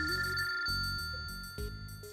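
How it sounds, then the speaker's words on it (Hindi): A telephone rings indoors in a household scene from a Pakistani telefilm, a steady electronic ringtone that repeats in short pulses over a low musical background for about two seconds. "काशिफ की माँ का फोन होगा"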